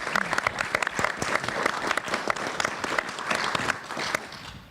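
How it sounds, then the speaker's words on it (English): An audience claps steadily throughout, a dense, lively round of applause from a sizable crowd with no talking over it. "let's give them a round of applause"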